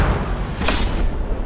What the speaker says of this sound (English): the next volley will probably take out a gun.